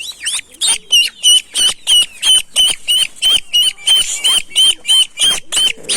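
Ducks at a coop give a steady run of sharp, repeated calls, about two or three per second, loud and close, with a little scuffling between calls.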